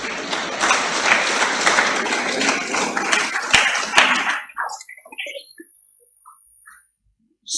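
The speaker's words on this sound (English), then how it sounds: "Clap for DANQUAH." Lecture audience at the J.B. Danquah Memorial Lectures applauds in a dense, steady burst of clapping for about five seconds. It then cuts off abruptly, leaving near silence with a few faint scattered sounds.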